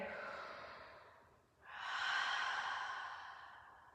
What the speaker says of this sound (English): Let's find 2 rounds of breath here.